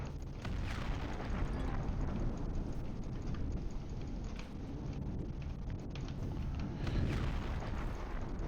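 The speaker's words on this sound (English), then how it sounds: "Not sure what all those explosions are, but I like it." Continuous rumbling explosions and blasts in a space combat video game during a fight against a Kraken, dense and roaring throughout without pause.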